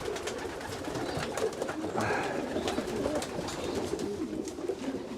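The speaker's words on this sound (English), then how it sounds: "Because this pigeon also likes to sleep now." Racing pigeons at a loft cooing softly and repeatedly, a low murmuring rhythm of overlapping coos close by with no speech.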